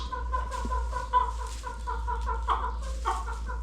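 Chickens and roosters cluck and squawk steadily in overlapping bursts, a busy flock in a henhouse heard close with no one talking.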